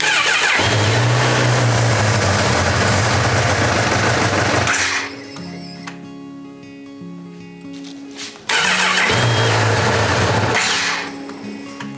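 A Honda CB1000R motorcycle engine cranks and catches, idling loudly for a few seconds, then cuts out; after a pause a second start attempt brings it back to a rough running idle before it fades again.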